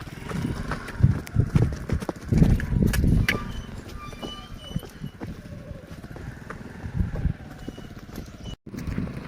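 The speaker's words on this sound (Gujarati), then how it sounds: "આપણી ઘોડી હાલી જાય છે અને વચ્છેરો દોડ્યો આવે છે" A mare walking and her foal running on a hill path, giving irregular hoof clip-clops close by amid outdoor rumble and scuffing.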